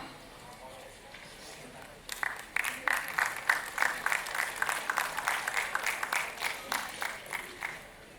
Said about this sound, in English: let's give them a huge and warm round of applause